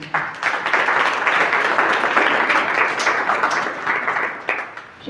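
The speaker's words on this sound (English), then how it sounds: "Give her a round of applause." An audience claps for a teacher, a broad crowd applause that rises quickly, holds at a steady full level for several seconds, then thins slightly toward the end.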